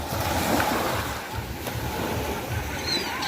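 Sea waves washing and surging steadily around Jebudo Island in South Korea, with wind buffeting the microphone and no clear speech.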